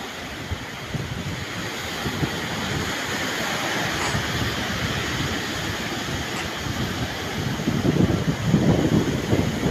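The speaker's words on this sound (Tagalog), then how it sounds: "Grabe yung alon dito." Strong waves driven by a powerful northeast monsoon wind roar continuously, a dense rushing surge with wind buffeting close to the microphone that swells louder near the end.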